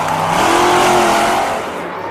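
Monster Jam monster trucks race side by side at the 2012 World Finals, a loud, sustained engine roar with rising revs that swells and holds before easing slightly at the end.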